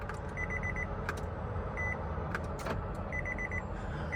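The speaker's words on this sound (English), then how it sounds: "so sorry about the beeping" An electronic chime beeps inside a car in short, evenly spaced bursts of several quick tones, repeating over a low cabin rumble with a few faint knocks and no talking.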